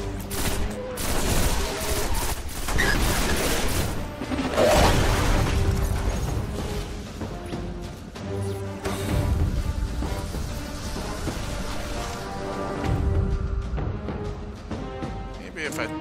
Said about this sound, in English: I think I could throw a grenade in there.